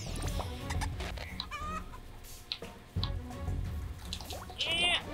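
Cartoonish chickens clucking in the platformer game Bomb Chicken, several quick, chirpy clucks and squawks popping up over busy game music and effects, close and fairly loud.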